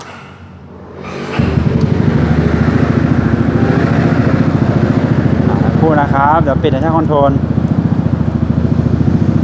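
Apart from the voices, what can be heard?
Yamaha X-Max 300 ABS 2018 scooter engine running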